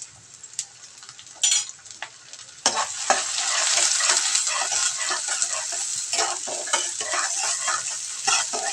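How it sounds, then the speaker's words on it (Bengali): Whole spices, two bay leaves, three pieces of cinnamon and cloves, frying in oil as they are stirred, a quiet start with a few spoon clicks, then a sudden bright, steady sizzle with scraping strokes. "এখন নেড়ে চেড়ে একটু হালকা বাদামি কালার হয়ে গেলে তারপর অন্য মশলাগুলো অ্যাড করব।"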